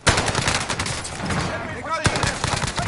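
Video game gunfire crackles in rapid bursts, dense and loud throughout, with automatic fire overlapping single shots. Voices are heard faintly alongside.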